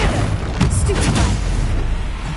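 Bombarda spell blasts in the game Hogwarts Legacy during a troll fight, a dense booming roar with a few sharper bursts, loud and continuous throughout, with speech-like sounds mixed in.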